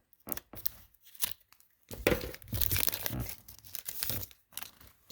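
A Bowman Chrome basketball card pack is cut and torn open close by, with crinkling foil, a few short snips and longer rustling tears in uneven bursts and no talking.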